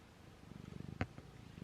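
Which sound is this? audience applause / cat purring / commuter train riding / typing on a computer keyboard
cat purring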